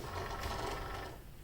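A Cricut cutting machine slices through a vinyl decal for a water bottle, giving a steady, close mechanical whir with rapid motor buzz that holds evenly, then thins slightly near the end, with no talking.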